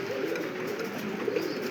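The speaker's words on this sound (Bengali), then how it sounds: "কালদম রানিং পেয়ার ডিম নিয়ে বসে আছে, কালদম কবুতর" Low, continuous cooing comes from a Kaldom pigeon running pair sitting on their eggs, a gentle rolling murmur at moderate volume with a couple of slightly stronger swells.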